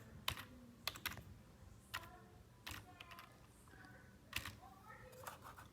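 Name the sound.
typing a Wi-Fi password on a computer keyboard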